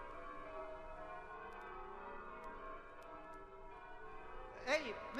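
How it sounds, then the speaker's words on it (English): The Bow Bells, church bells chiming in the distance, ring faint and steady with a resonant, sustained tone throughout, and no voices are heard. "against the background of distant chiming bells"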